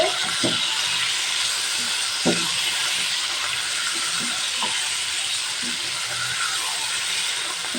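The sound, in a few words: frying chicken stirred with ginger garlic paste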